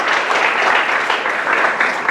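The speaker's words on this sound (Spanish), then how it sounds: "Dele palmas al Señor." A church congregation claps steadily during a sermon, a dense, sustained burst of applause that fills the room without letup.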